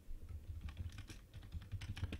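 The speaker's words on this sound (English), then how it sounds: "And I can type some stuff." Keys clatter on a computer keyboard in a quick, uneven run of close, crisp taps over about two seconds, with no talking.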